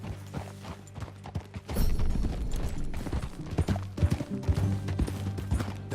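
A horse ridden in Red Dead Redemption 2 makes rhythmic clip-clopping hoofbeats, loud and close, that speed up into a faster gait over a steady tonal game background.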